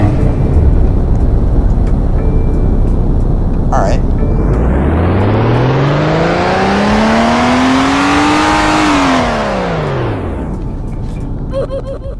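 A sports car engine in a video game revs up through a long rising whine, peaks, then drops back, loud and close, after a brief spoken word.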